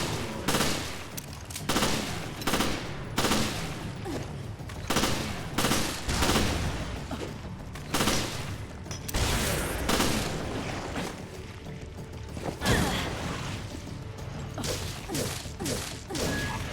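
Magnum revolver shots in Resident Evil Revelations, heavy booming blasts fired in a steady spaced rhythm, close and loud, with scattered impacts and game effects between shots.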